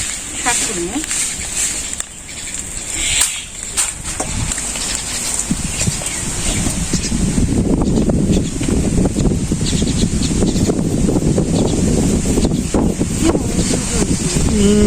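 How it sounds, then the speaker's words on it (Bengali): Strong wind ahead of rain buffets the microphone in a continuous roar in a village, with people talking over it and occasional thumps. "বাতাস ছাড়ছে রে"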